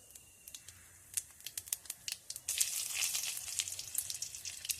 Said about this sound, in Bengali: এই যে এখানে একটু গোটা জিরে দেব, একটা শুকনো লঙ্কা দেব,